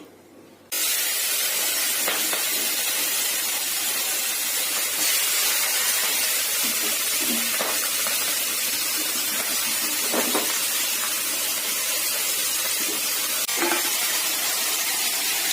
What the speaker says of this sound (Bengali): তেজপাতা দিলাম, পেঁয়াজ, আদা, কাঁচা লঙ্কা চেরা দেওয়া আছে, এগুলি আমি দিয়ে দিচ্ছি।